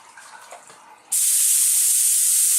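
A spray gun blasts 90-degree water at about 18 pounds of pressure during carbon film dipping, a sudden loud steady hiss bursting in after a quieter moment and continuing without a break.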